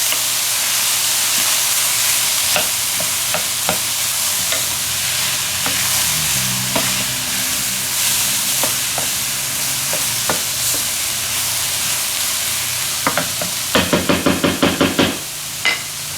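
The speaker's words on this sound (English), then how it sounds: "And we wanna start working this around in our pan." Frozen vegetables for chicken pot pie filling are stirred in a sizzling pan, a steady frying hiss with scattered scrapes and knocks of the utensil, closing in a quick run of clacks.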